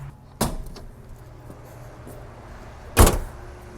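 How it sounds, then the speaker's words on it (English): A BMW E30's hood is popped open, giving a sharp metallic clunk, a quiet stretch of faint rattles, then a second louder thump near the end as the hood latch releases and the panel lifts. "Let's pop the hood"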